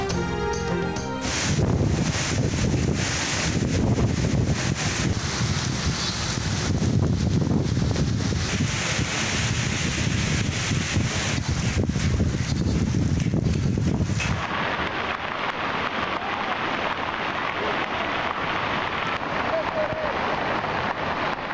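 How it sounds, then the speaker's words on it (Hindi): Strong wind roars against the microphone while rain falls during a storm in Sindh, a dense continuous rushing noise that drops and changes character partway through. "मीरपुर खास, खैरपुर और टंडो अलायार में दूसरे रोज भी तेज हवाओं के साथ बारिश।"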